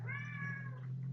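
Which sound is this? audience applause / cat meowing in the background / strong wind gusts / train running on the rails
cat meowing in the background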